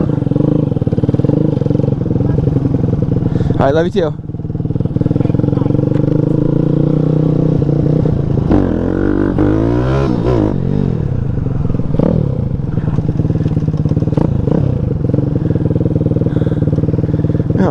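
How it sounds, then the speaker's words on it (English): A 212cc Grom clone motorcycle is being ridden, its engine droning steadily and loud throughout, with brief revving surges and some clatter, while a person talks briefly over it. "I'm riding my motorcycle right now."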